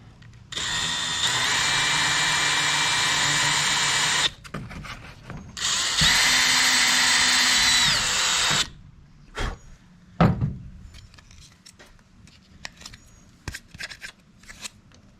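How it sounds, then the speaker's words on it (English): A power drill whirs loudly in two sustained bursts with a short pause between, drilling a hole in an Echo Speed Feed 500 trimmer head, followed by clattering and handling noises. "Alright, so I'm going to drill a hole."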